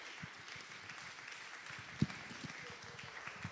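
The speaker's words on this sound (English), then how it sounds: "Please, ladies and gentlemen, a round of applause for Dr. Nasir Danladi Bako as he comes to give the book review" An audience claps for a book reviewer at a live event: a steady, fairly faint spread of many hands clapping, heard from a distance, with occasional louder claps.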